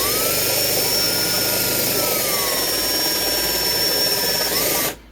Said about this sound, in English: we're going to drill the second hole